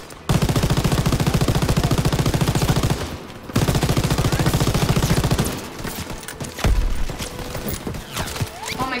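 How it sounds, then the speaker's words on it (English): A machine gun hammers out long sustained bursts in a Call of Duty WW2 D-Day battle, loud and close, with a brief pause and then more firing before it trails off into scattered shots. "Alright, use MG."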